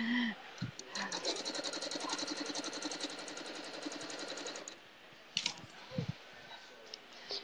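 A sewing machine runs a quilt strip through a rapid, steady stitching burst for several seconds, then stops, followed by a few scattered clicks and handling noises.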